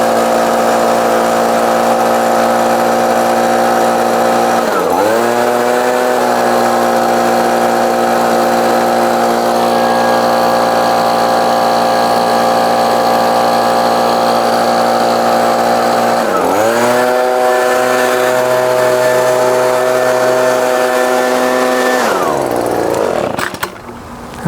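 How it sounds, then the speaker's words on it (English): A gas-powered handheld leaf blower, the maker's most powerful model, roars loud and steady at full throttle with two brief dips in revving before it winds down at the end. "the gas powered one, and this is their most powerful handheld blower"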